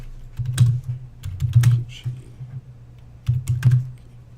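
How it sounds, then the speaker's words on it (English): Bursts of keystrokes clatter on a computer keyboard close by, coming in quick irregular clusters separated by brief pauses, with no voice over them. "as I'm typing this up here"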